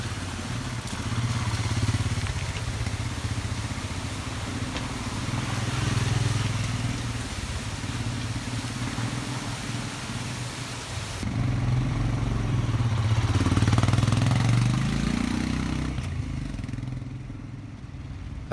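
Royal Enfield Himalayan motorcycles ridden along a dirt trail in India, a steady droning engine rumble with road and wind noise that swells louder partway through, then fades toward the end.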